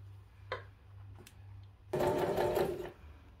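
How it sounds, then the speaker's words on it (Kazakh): A sewing machine stitches pieces of a handmade bag together, a short run of rapid mechanical whirring after a few faint clicks and taps, close and fairly loud. "Соңғы бөлігімізді қосып тігіп шығамыз."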